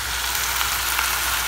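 Kale sizzles and fries steadily in a large pot with garlic and onion, a loud, continuous crackling hiss close up with no talking.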